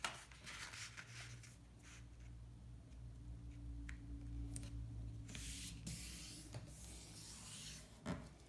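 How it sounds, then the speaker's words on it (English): Paper is folded for a zine, with its shorter edges creased into the middle: quiet rubbing and sliding strokes, soft crinkles and a few crisp pressing swipes, close and faint, with no talking. "I'm going to fold these two shorter edges into the middle"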